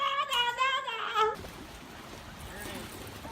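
A cat gives a short series of wavering, drawn-out meows close by, then falls quiet as a person talks over a soft indoor background.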